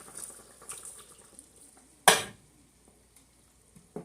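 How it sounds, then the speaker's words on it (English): Diced tomatoes drop into a pot of cooking oxtails with one sharp splashing thud midway, set against a low background simmer, soft stirring clinks and a faint knock near the end. "I throw in some diced tomatoes"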